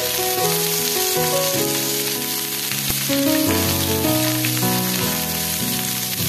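Sliced capsicum for chicken chilli hits a hot pan and sizzles loudly and steadily, a bright hissing wash heard together with melodic music layered on top throughout.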